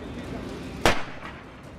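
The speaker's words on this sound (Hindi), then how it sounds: "इस बीच उसमें धमाके भी होते सुनाई दिए" A single sharp bang bursts from a burning truck, followed by a quick, weaker echo-like thud, standing out above steady background noise.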